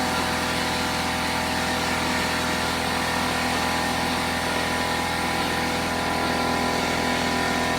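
An air jack pushing a cabinet up, giving a loud, steady pneumatic roar and hiss that runs without pause the whole time, with no voices.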